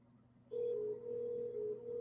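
A telephone dial tone on a phone line holds steady and loud after a short quiet start, continuing alone to the end with no talking over it.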